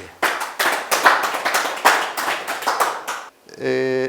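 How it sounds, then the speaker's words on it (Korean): An audience at an academic research presentation claps to welcome a speaker, close and fairly loud bursts of clapping that stop abruptly, followed by a brief tonal hum. "큰 박수로 맞이해 주시기 바랍니다"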